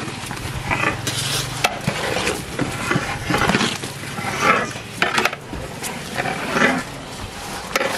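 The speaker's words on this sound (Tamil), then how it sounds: "இப்போ வந்து அரிசி சேர்த்துக்கலாம்." Rice being added and stirred into chicken biryani masala in a large pot, a steady scraping and stirring with sizzling underneath, continuous and close with no talk.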